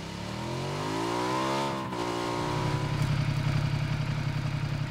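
Motorcycle engine in the video game PUBG Battlegrounds, close and loud, revving up in a rising whine, dropping briefly, then settling into a steady rough throbbing idle-to-cruise rumble, with no talk.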